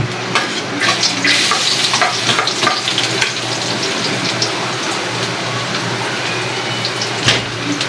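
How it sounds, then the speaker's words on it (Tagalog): Garlic and onion sauté in hot oil in a pan, a loud close sizzle with stirring scrapes that settles into a steady fry. "Igisa muna natin ang ating bawang at sibuyas."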